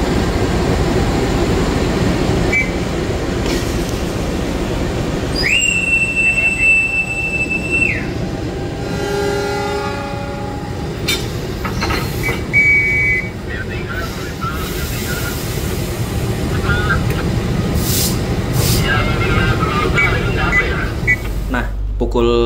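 The Gunungjati passenger train pulls out of Gambir station with a steady rumble of rolling wheels, a brief high whistle-like tone and occasional squeals, while people talk nearby.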